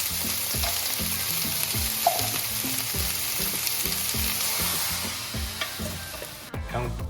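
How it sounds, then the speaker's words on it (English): Onion stir-fries in a pan at home, a constant close sizzle under repeated rhythmic clacks of stirring and scraping that ease off near the end. "This is how I do stir fry at home. Onion in."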